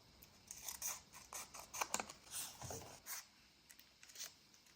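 Scissors snip quietly through paper for a vintage-style craft piece, a run of soft, uneven cuts and rustles close by with no talking.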